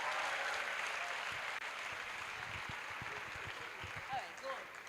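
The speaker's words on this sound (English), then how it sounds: "A resounding round of applause." An audience at a university career seminar applauds in a dense, steady wash of clapping that slowly tapers off, with a few voices murmuring underneath.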